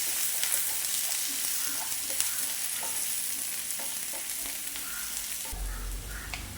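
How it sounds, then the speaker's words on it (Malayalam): Onions, green chilies and curry leaves sizzle steadily in a pan, close and fairly quiet, with light stirring scrapes throughout and a low thump near the end. "നന്നായിട്ട് വഴറ്റാം."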